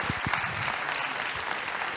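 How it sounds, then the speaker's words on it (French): A conference audience at a tourism-territories session claps for a speaker, a short, steady wash of dense applause with a few louder nearby claps at the start. "On peut l'applaudir."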